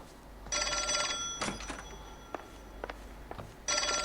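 Telephone bell ringing in the L.A. Noire video game, two loud electronic ring bursts at the start and end with quiet footsteps and faint clicks between them.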